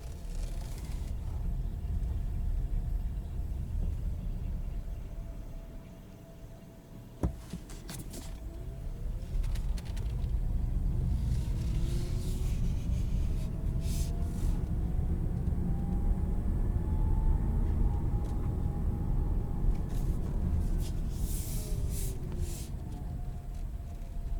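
A 2020 Chevrolet Bolt EV LT drives in normal mode, with a steady low road and cabin rumble and a faint electric motor whine rising and falling in pitch, plus a brief click partway through.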